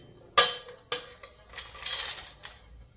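Ingredients for a red garlic chutney are dropped into a steel mixer grinder jar, giving a few sharp clinks and clatters followed by softer rattling and scraping, close by with no talking.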